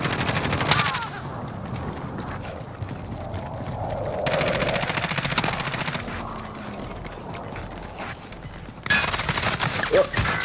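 Gunfire in Call of Duty Warzone, bursts of automatic shots cracking over a busy background of game noise, fairly close and loud at the start and end.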